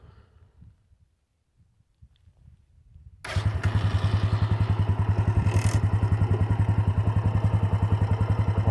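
A Bajaj Boxer X125 motorcycle, already hot, with a Chinese copy carburettor fitted, starting after a few quiet clicks and clunks, then settling into a loud, close, steady rhythmic idle.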